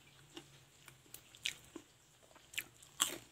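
Homemade crispy fried chicken, crunchy outside and tender inside, is bitten and chewed close by, giving faint, scattered crunches and soft chewing clicks at an irregular pace over a quiet background.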